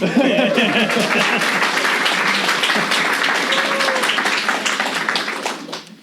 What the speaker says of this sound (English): can you just acknowledge your presence in here somehow with a round of applause for yourselves?